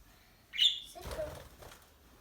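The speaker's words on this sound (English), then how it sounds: "So those are my birds." Pet budgies give a brief burst of flapping wings and a quick chirp, close by and fairly soft, over about a second, with quiet room tone around it.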